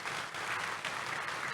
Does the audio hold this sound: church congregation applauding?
yes